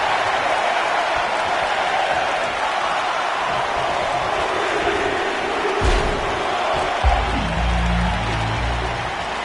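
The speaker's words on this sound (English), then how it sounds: "Listen to this crowd." Arena crowd noise in a WWE wrestling video game, a continuous roar of cheering and applause with a thud partway through and a commentator's voice over it.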